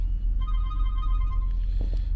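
A mobile phone ringtone plays as a steady, repeating electronic melody for about a second and a half at moderate volume over low background rumble, then stops.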